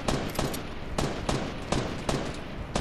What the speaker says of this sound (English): Someone else is shooting Andy too, bro.